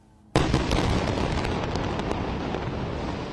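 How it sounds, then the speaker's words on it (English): At night during the Israel-Hamas war, a sudden loud explosion bursts after a quiet moment and gives way to a sustained, roaring rumble that slowly fades, with no voices. "Explosions rumbled through the night after Israel declared war on Hamas on Saturday."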